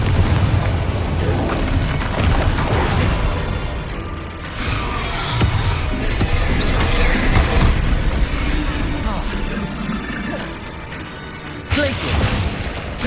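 Confringo spell blasts in the video game Hogwarts Legacy, dense repeated booming impacts and crashes layered over continuous combat noise, loud and close, with a voice calling out spells.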